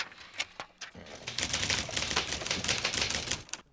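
A mechanical typewriter clatters in a dense, rapid run of key strikes after a few separate opening taps, loud and close, the keys hammering in quick succession before stopping abruptly.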